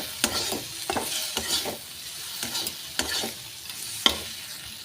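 A spice mixture for tadka dal being stirred in a bowl, a series of regular scraping strokes about every half second, close and fairly loud with no talk.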